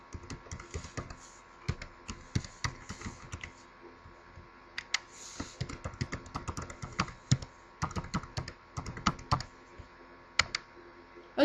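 Rapid keystrokes on a computer keyboard while entering a username and password, a steady run of close, light clicks and taps in uneven bursts with brief pauses.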